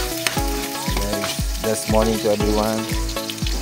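Pork adobo frying in a pan, a steady close sizzle with stirring scrapes, under a voice talking over it.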